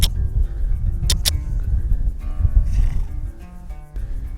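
A horse neighs and shifts into a lope on a training line, with loud hoof thuds and movement close by, plus a sharp whinny-like burst near the start.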